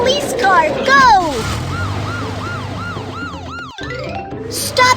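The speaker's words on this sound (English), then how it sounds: "Police car, go!" Cartoon police car siren from a children's vehicle cartoon, wailing in repeated rising-and-falling sweeps, loud and close, with a brief cartoon voice and sound effects at the start.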